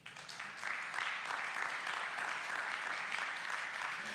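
A church congregation applauds at a Sunday worship service, a dense, steady wash of clapping that swells within the first half second and holds loud and even throughout, with no voices standing out.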